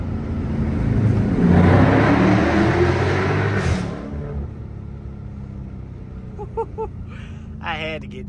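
A 2023 Dodge Scat Pack with Dynomax Race Bullets exhaust revs loudly, the deep rumble swelling and then easing off as the car travels through a tunnel. A quieter stretch follows with a few faint beeps and noises.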